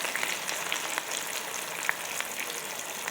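Loitta fish fritters with green chilli and onion leaves frying in hot oil, a steady dense crackling sizzle with scattered small pops, close and even throughout.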